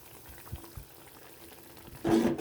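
Cornflour slurry hits a simmering street-style mushroom gravy: quiet taps and faint stirring give way to a sudden loud burst of bubbling and sizzling near the end.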